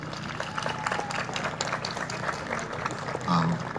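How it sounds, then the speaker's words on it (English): Crowd applause at a city hall grand opening ceremony in Stonecrest, Georgia, a steady wash of many hands clapping throughout, with a brief louder swell near the end. "So give yourselves a round of applause."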